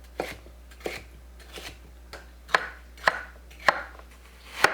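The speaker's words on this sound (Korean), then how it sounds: "파프리카 심지와 꼭지를 제거하고 갈기 좋은 크기로 썰어주세요." A knife chops bell pepper on a cutting board in a steady rhythm, about nine crisp thuds spaced roughly half a second apart, close and clear with no talking.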